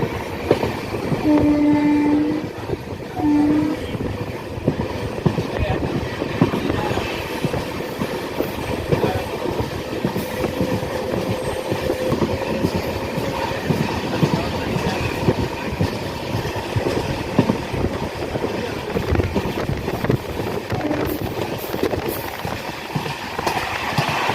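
Train pulling into Jesantar railway station, a continuous loud rumble of wagons with clattering wheels, and a horn sounding twice near the start.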